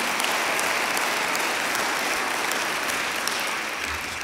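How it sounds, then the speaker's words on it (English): A large audience in a church sanctuary at a high school football recognition banquet gives a sustained round of applause, a dense, steady roar of clapping lasting several seconds with no speech over it. "Give them a round of applause."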